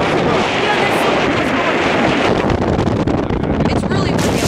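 Strong wind gusting outdoors in a snowy landscape, loud and constant buffeting against the microphone for the whole stretch.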